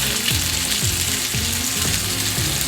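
Pork chops pan frying in hot oil, a loud, steady sizzle and crackle filling the whole stretch with no talk.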